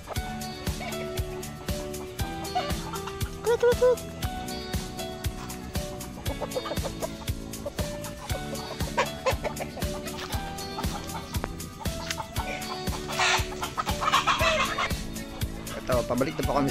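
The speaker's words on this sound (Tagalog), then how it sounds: "Ito pa yung mga alaga nilang mga manok. Ang dami ng manok." Many chickens cluck and squawk all around on a farm, with a rooster-like cry rising partway through, over a constant busy farmyard din.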